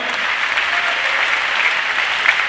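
Concert crowd applauding the monitor engineer at a live show in Singapore, a steady dense wash of many hands clapping throughout, fairly loud and even with no voices standing out.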